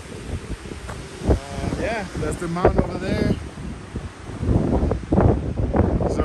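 Strong wind buffets the microphone outdoors at a snowmobiling cabin near Winter Park, Colorado, gusting in loud, rumbling bursts while people talk over it.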